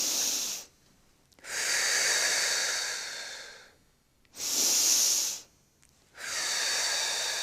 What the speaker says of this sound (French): Je vous montre maintenant une respiration abdominale.